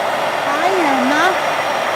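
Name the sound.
hair dryer drying watercolor paint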